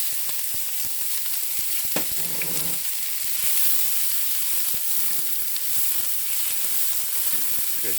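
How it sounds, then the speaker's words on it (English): Two cups of onions frying over high heat in olive oil, a constant bright sizzle broken by scattered clicks and scrapes of a utensil stirring them around the pan, close by with no talking. "give the onions a nice little stir here. Get them coated nice and evenly in the olive oil."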